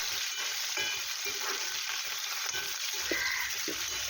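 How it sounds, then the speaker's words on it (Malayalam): Chopped jackfruit seeds sauté dry in a pan with the other chammanthi ingredients, giving a steady close sizzle and crackle with occasional stirring scrapes throughout. "നന്നായിട്ട് എല്ലാം കൂടി ഒന്ന് വഴറ്റി മൂപ്പിച്ചെടുക്കുക."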